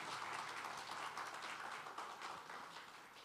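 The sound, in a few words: applause in church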